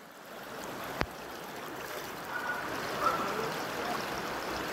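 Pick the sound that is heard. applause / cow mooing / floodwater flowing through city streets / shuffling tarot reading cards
floodwater flowing through city streets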